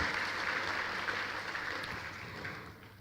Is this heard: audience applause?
yes